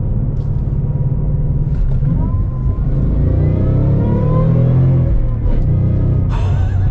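A Shelby Mustang Signature Edition accelerates through traffic, its engine droning and rising in a deep, loud roar heard from inside the car, with faint talk now and then.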